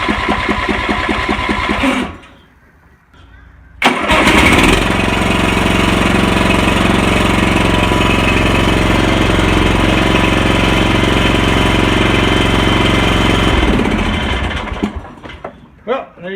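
A riding lawn mower engine, fitted with a new ring gear and starter gear, cranks briefly, catches and then runs loud and steady for about ten seconds before shutting down, with a short pause before it starts.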